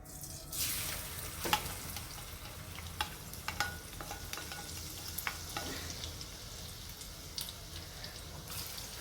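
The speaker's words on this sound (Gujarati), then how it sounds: "ઘી ગરમ થઈ ગયું છે તો આપણે હળદર નાખીશું." Green turmeric fries in hot ghee over low heat, giving a soft, steady sizzle throughout with light scraping and clicking as it is stirred in the pan. No one speaks.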